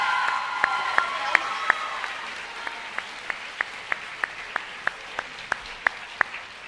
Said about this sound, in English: Give me one round of applause for the excellent job they've done this year.